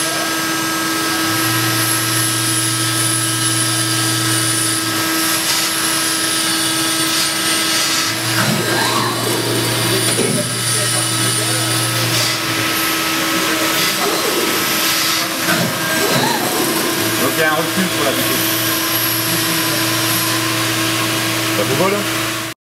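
An AMADA HFT 170-4 press brake running in a workshop, a steady mechanical hum with a low tone that cycles on and off in long stretches, while people talk nearby.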